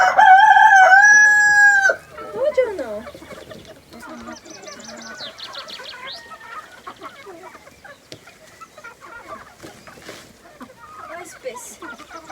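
Chickens on a farmyard: a rooster crows loudly at the start, then softer clucks and scattered calls follow, with voices talking nearby.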